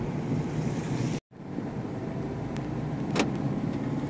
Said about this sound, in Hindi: आर्यन ड्राइविंग कर रहा है, सुनसान, कोई ट्रैफिक नहीं है रोड पर